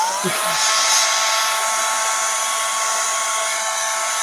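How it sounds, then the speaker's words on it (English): A hair dryer blows on wet paint on a sunflower stencil, a loud, steady, close whir that runs unbroken throughout. "We'll give this a little blitz with the dryer"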